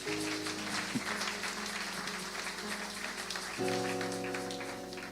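Congregation clapping in a church, a dense steady patter of many hands with sustained musical tones underneath that swell louder near the end.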